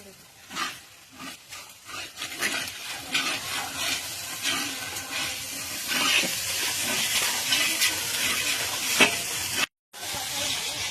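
Spices with bay leaf, onion and ginger paste sizzle in a large pot as a meal for fifty is cooked, with a spoon stirring and scraping in uneven strokes. The frying hiss is steady and close, and there is a brief cut near the end.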